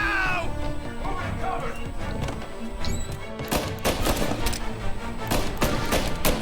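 Gunfire in the video game Mafia Definitive Edition, a few sharp shots cracking over layered game music and ambience, with a couple of strong bursts in the second half.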